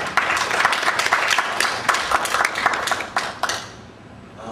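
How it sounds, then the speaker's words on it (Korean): A lecture audience applauds a professor after a talk on global healthcare as a growth industry. Loud, close clapping forms a busy, even patter for about four seconds, then stops abruptly. "훌륭한 강의를 해주신 교수님께 다시 한번 큰 박수 부탁드리겠습니다"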